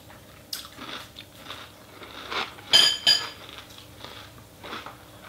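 Spoon stirring and scooping White Choc Coco Pops cereal in a bowl, with soft clinks against the dish and crunchy bites, a louder cluster of scraping clatter midway, close and fairly quiet without speech.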